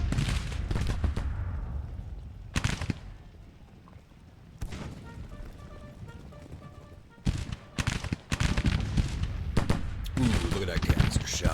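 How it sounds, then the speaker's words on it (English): Canister shot artillery volleys in Ultimate General: Civil War, heard as repeated loud broadband blasts, with bursts around the start, middle and end. A crackle of distant musketry and a low battle rumble fill the gaps between them. "Look at that canister shot"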